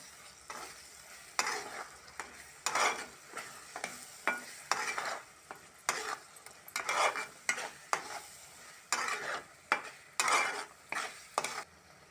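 A spoon scrapes and stirs through a thick egg masala curry with cashew powder in a pan in steady repeated strokes, with a soft sizzle underneath.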